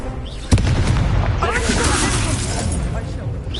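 A Confringo fire spell in Hogwarts Legacy bursts early with a sharp, booming blast, then rumbles on as a continuous crackle of magic under a voice.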